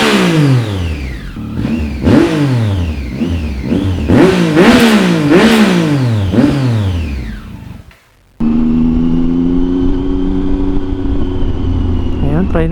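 Triumph Tiger 800 three-cylinder adventure motorcycle with a Yoshimura exhaust, ridden in second gear over road humps: the engine revs up and down repeatedly, then drops off for a moment before settling into a steady, even drone.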